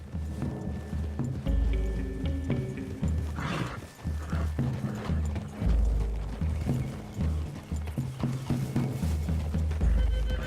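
Horse hooves in the game Red Dead Redemption 2, steady clip-clop of several horses moving through a wooded clearing, with occasional snorts and tack rattling, fairly close and continuous.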